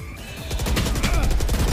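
Rapid, dense gunfire from a video game shootout rattles on without pause, loud and close, with shots packed tightly together and no talking over them.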